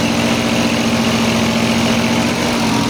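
A 6 kV generator engine runs at full load after an automatic start in Chittar Pariyan, Azad Kashmir, producing a loud, steady, close idling drone with a constant low hum. Nobody speaks over it.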